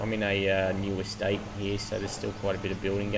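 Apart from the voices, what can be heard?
No distinct noise like a dog, phone or traffic.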